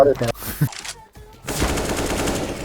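Rapid automatic gunfire erupts in a first-person shooter video game, a dense sustained burst in the latter half after a brief stretch of other game sounds and a pause.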